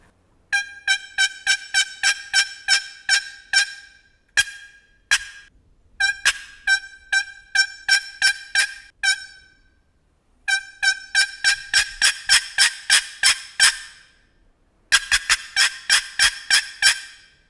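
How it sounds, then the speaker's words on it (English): Turkey box call works through runs of sharp, high yelps in quick rhythmic bursts, broken by short pauses and single clucks, close and clear with no talking. "I would do more plain yelping and softer clucking"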